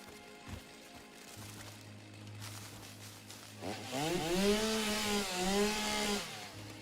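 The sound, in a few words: chainsaw cutting plants in the video game Satisfactory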